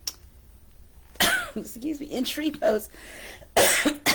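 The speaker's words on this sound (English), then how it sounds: "There's the cough coming back" A few sharp coughs from a nearby person during a yoga class, breaking up quieter talking, with another loud cough burst near the end.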